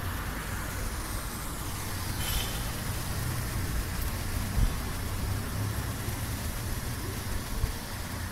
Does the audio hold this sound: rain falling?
yes